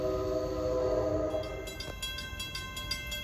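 An NJ Transit train rolls toward Denville station, a steady rumble of wheels and engine with a low tonal horn-like drone that cuts off partway, followed by fainter rail noise and clicks.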